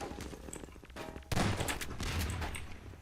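Rapid video-game gunfire shooting at barrels in a level where logs fall onto enemies, a burst of close, loud shots followed by a heavier volley after the first second.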